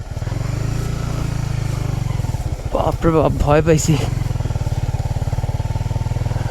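A Honda CBR 150R motorcycle engine chugs in a fast, steady rhythm, revving under strain as its rear wheel slips on a slippery red-clay hill. Midway, a person speaks briefly in an excited voice.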